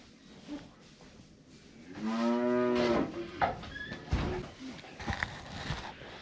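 Cattle on a windy farm: one loud, drawn-out moo from a nearby cow, followed by a few shorter, fainter lowing calls over steady background wind noise.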